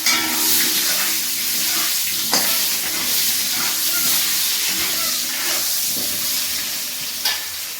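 Cumin seeds and potatoes sizzle in hot oil, a loud, hissing fry with steamy crackle and occasional sharp stirring clicks and scrapes, close and continuous.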